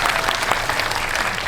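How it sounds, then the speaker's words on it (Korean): An audience at a Korean film screening talk claps loudly and steadily, dense applause filling the short moment without any voices. "박수 부탁드립니다"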